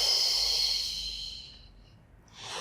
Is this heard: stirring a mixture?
no